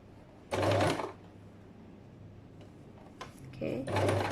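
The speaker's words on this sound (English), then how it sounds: "Now I'm gonna sew up until the stitch point here." A sewing machine stitches a trouser side pocket in two short bursts of rapid mechanical whirring, separated by a quieter pause with faint low hum and small clicks.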